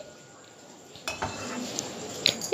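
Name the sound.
lifting steamed potato pieces out and draining water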